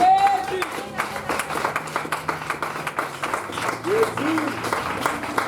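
A church congregation applauds in worship, a dense crowd of hands clapping with cheers and voices mixed in, loud and sustained throughout.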